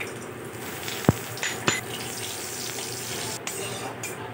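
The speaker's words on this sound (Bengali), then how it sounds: "মাঝারি আঁচে রেখে সর্ষেটা আমি ভালো করে ভেজে নিচ্ছি।" Ground mustard seeds fry in hot oil in a wok over medium heat, giving a steady soft sizzle with a few sharp clinks of a utensil against the pan, close and continuous.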